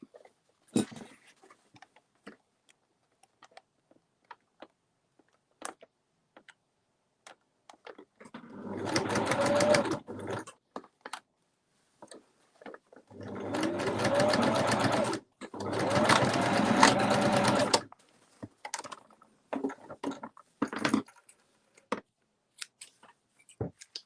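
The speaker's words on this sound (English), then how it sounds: "And then just sew that shut." Sewing machine stitching a fabric bowl cover closed, running in two bursts with a pause between, each a steady mechanical whir with a rapid needle rhythm, close and clear, framed by quiet handling clicks.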